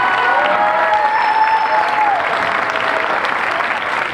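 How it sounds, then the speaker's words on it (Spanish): An audience at a summer children's cultural event claps in a sustained round of applause, dense and steady, with a few faint voices mixed in. "un aplauso para ella."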